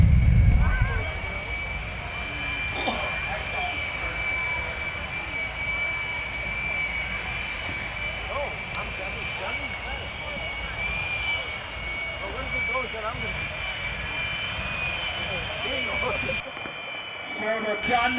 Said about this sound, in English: So the thunderous sound of Bob Motz Kenworth